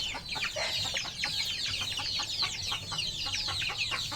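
Two-month-old incubator-hatched chickens in a farm pen cluck and peep continuously, many birds overlapping close by in a busy, chattering flock with no talking.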